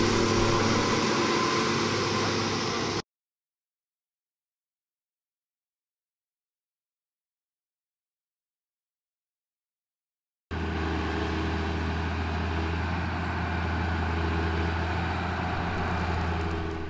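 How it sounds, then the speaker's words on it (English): A small 142-horsepower tractor loading a 17-yard scraper gives a steady, low diesel drone. It runs for a few seconds, cuts to a long silent gap, then resumes with the same heavy, continuous rumble. "We're using a small 142 horsepower tractor to load the 17-yard scraper"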